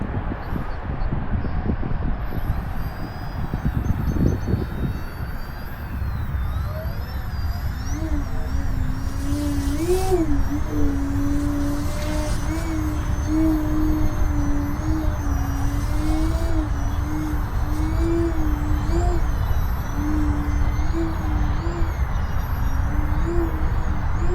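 A ROCHOBBY MXS V2 RC park flyer hovers nearby, its electric motor making a steady whine that wavers up and down in pitch with the throttle, over a constant rush of wind and outdoor noise.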